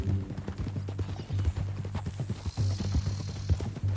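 Horse hooves clip-clop at a steady walking rhythm in Red Dead Redemption 2, close and clear throughout, with a few faint mechanical clinks in the background.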